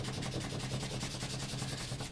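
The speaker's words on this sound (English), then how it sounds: "we're just going to sand that white paint out of there" Sandpaper rubs white paint off a repaired gun stock in quick back-and-forth strokes, a close, steady scratchy rhythm of about a dozen passes.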